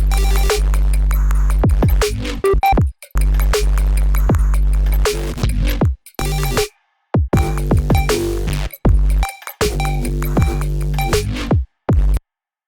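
A glitchy, experimental synthesized noise bass line plays loud and alone, its gritty, buzzing tones sliding in pitch across choppy phrases broken by sudden abrupt gaps of silence.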